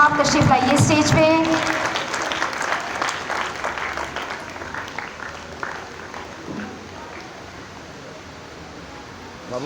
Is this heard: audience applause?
yes